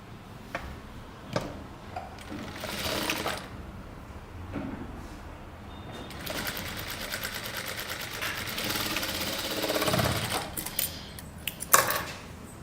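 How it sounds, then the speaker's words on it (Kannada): Sewing machine stitching the lining of a boat neck kurta, a steady mechanical whirring in several bursts with ticking clicks, close by and moderately loud, briefly pausing between runs. "ಇದನ್ನು ಹಿಂಗೆ ಫೋಲ್ಡ್ ಮಾಡಿಬಿಟ್ಟು ಅದ್ರ ಮೇಲೇ ಇನ್ನೊಂದು 1/2 ಇಂಚ್ ಸ್ಟಿಚ್ ಹಾಕಬೇಕು ಇಲ್ಲಿಂದ ಇಲ್ಲಿ"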